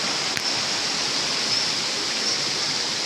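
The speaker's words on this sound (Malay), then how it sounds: "Anda boleh lihat suasana hutan dan juga air sungai yang mengalir" A river flows through the rainforest of Kinabalu Park, a steady, dense rush of water that stays even and continuous from start to finish without pause.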